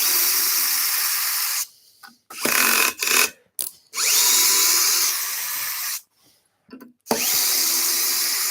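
Power drill backing screws out of a woodturning lathe setup, loud bursts of whirring broken by short pauses, several separate runs of a few seconds each.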